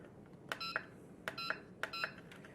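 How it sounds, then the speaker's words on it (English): Three pairs of short electronic beeps from a WLtoys V911 helicopter remote control's trim indicator, evenly spaced and fairly faint, against quiet background hiss. "when you actually move the trim, you'll hear an audible indicator."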